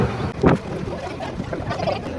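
The Kuppappuram High School boat moves on the backwaters at Kavalam in Kerala, heard as a steady low engine rumble with wind buffeting the microphone close by.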